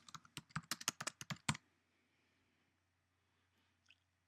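A burst of about a dozen quick, crisp keystrokes on a computer keyboard while entering a column name in a list page, close and clear, then near silence with one faint click later.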